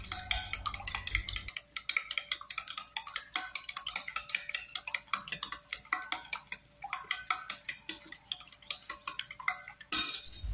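Rapid clinking of a utensil against a bowl, a steady rhythmic tapping as an egg mixture is whisked and stirred close by, with no voices.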